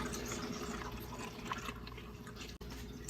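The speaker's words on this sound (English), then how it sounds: "So now I just pour this in there." Kombucha pours into a bottle with a steady liquid trickle and dripping, close by and moderately quiet, with one brief break near the end.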